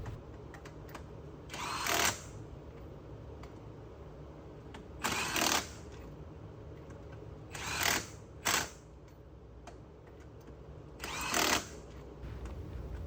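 A power tool tightens the wheel lug nuts on a Jeep Wrangler JK in a star pattern during a wheel spacer install, giving four short, loud buzzing bursts spaced a few seconds apart over a quiet background.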